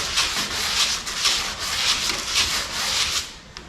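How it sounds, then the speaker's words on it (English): Sanding a truck cab corner by hand with 80 grit sandpaper, loud rhythmic scraping strokes that repeat about every half second, close up and alone. "Using 80 grit, we're just gonna follow this corner."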